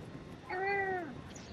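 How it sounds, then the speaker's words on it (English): A cat lets out a single clear, drawn-out meow, close by and fairly quiet over faint background noise. "Yeah, don't you hear him? He's going meow."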